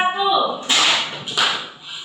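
Two sharp hand claps ring out in a classroom, about a second apart, close and loud, following a brief spoken phrase.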